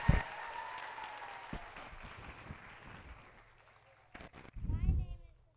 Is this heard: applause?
yes